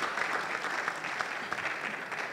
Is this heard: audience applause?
yes